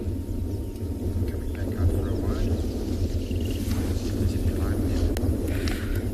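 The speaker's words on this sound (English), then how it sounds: "Still some beautiful thundering noises." Distant thunder rolls in a low, continuous rumble over an African safari reserve in hot, cloudy weather, with faint bird calls and soft ambient noise on top.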